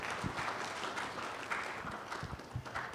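Audience clapping at a planning conference keynote on housing, a steady patter of applause lasting the full few seconds at moderate distance.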